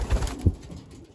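Pigeons coo in a breeders' loft, a couple of soft, low throaty calls up close, with faint rustling and other birds in the background.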